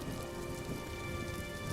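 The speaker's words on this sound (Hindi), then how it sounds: "बारिश अब और तेज हो गई थी।" Dense, steady hiss of heavy rain pouring down, with a low rumbling undertone hinting at thunder, even and unbroken throughout.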